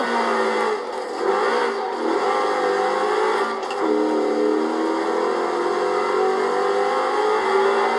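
A V10 biturbo car drifts in the racing game Forza Horizon 4, its engine holding a loud, continuous, high-revving whine with slight pitch shifts for the whole stretch, no voices over it.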